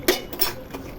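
A spoon clinks and scrapes inside a metal pot as cumin powder is stirred into a bubbling stinging catfish (shing) curry, making two or three short, close clatters with no talk.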